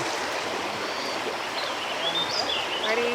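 Stream water flowing in a continuous broadband rush, moderately faint and steady, with occasional bird chirps over it.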